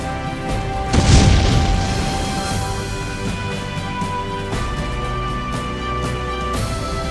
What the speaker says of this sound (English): Queen Mary sank instantly as the ammunition in the middle exploded.